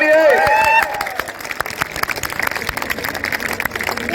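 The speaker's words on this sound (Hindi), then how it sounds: "ताली बजाओ सभी लोग ऋषि के लिए" Crowd clapping at an election rally in Nautanwa for candidate Rishi Tripathi, dense outdoor applause with scattered claps and cheers, following a loud amplified voice at the start.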